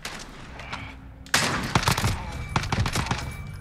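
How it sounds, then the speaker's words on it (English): An FN FAL rifle in Call of Duty Modern Warfare fires in quick tapped shots, a loud sharp opening crack followed by a fast irregular run of close bangs. "you can tap fire this fast enough that it's pretty close to full auto"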